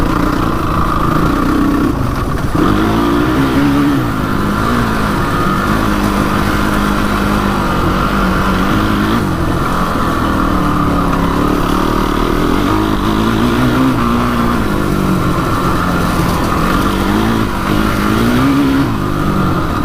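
Repaired Honda TRX450 ATV engine running loud and close, the throttle rising and falling in repeated revs over a continuous rumble, with no talking.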